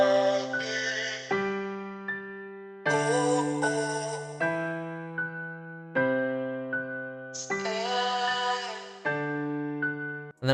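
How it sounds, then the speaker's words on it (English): Music loop built from sustained keyboard chords that change every couple of seconds, with chopped vocal samples played at half time on top, loud and clean with no talking. "We have the second keys with just the halftime arcade vocals."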